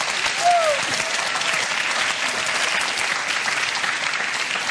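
A studio audience gives Beniamin a round of applause, a dense, steady wash of clapping from a crowd that holds evenly throughout, with a brief voice heard faintly at the start.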